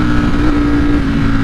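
A 2020 Ducati Streetfighter V4 with a flashed ECU tune drones loud and close at high revs, a steady engine tone with a slight dip and recovery midway.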